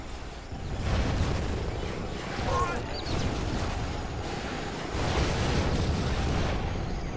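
German stinger missile strikes in the Rise of the Reds game, a continuous rumbling barrage of explosions with louder swells, heard alongside faint background sound.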